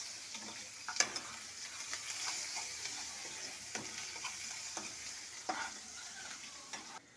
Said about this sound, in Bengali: এবার আমি পেঁয়াজটা তেলে দিলাম।